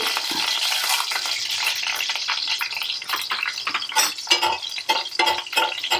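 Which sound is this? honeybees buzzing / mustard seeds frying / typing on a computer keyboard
mustard seeds frying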